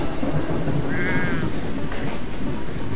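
Sheep bleat in The Sheep Game, a sheep-herding video game, as one short wavering cry rises over steady rain-like background noise.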